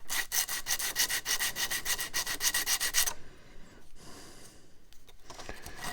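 Cheap sandpaper rubs back and forth over a wood ukulele box, a fast rhythmic scratching of quick even strokes close up, then slower, softer scattered passes.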